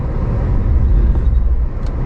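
A 4WD truck in high range with its mud-and-ruts drive mode engaged labours through deep mud and ruts, its engine a heavy, steady low rumble that swells and dips without letup, close and with no talk.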